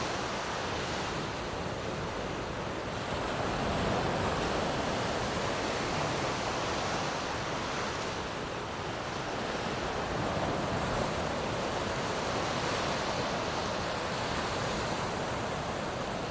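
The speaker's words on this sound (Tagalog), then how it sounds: "sarap pakinggan ng mga yung hampas ng alon" Loud, continuous roar of ocean surf, waves breaking and washing onto the shore in a steady wash of noise with no voices.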